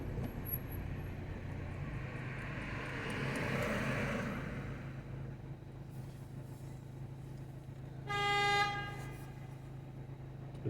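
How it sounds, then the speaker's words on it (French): Car horns honk in Moroccan street traffic in Meknès: a long rumble of passing vehicles, with a swelling pass near the middle and a clear, loud horn blast near the end. "Le klaxon c'est normal ici au Maroc."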